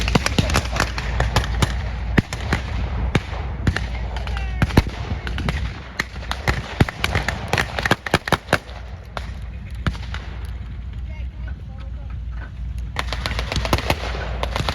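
Bursts of rapid automatic blank fire from .50 caliber machine guns mixed with sharper single booms of 37 mm cannon blanks, crackling repeatedly at moderate distance over a steady low rumble, at a WW2 reenactment event.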